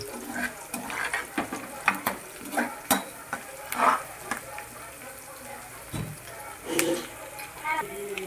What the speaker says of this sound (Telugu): ఎర్రగడ్డ మిరకాయలు బాగా వేగాలి బ్రౌన్ కలర్ వచ్చే వరకు